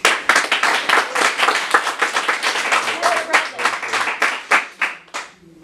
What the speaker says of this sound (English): I'm going to ask you to refrain from clapping too much